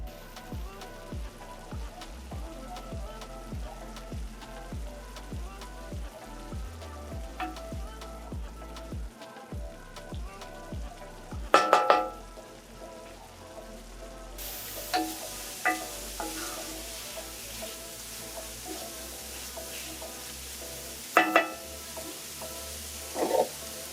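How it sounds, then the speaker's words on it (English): A mango tarkar mixture fries down in a pot with steady, soft sizzling and crackle. Louder clatters, likely from stirring, break in now and then, with no talking. "I'm letting this mixture bunjay or fry down until it gets dry and a little bit grainy."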